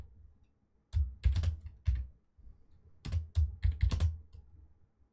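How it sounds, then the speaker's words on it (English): Someone types C++ code on a computer keyboard in Visual Studio 2022, close clusters of key clicks coming in two bursts separated by brief pauses. "we're just typing up the class and getting our void function done here"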